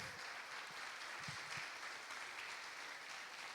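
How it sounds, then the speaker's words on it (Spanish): A church congregation gives a faint, even round of clapping that runs on without a break, heard alone with no talk over it. "denle un aplauso al Señor"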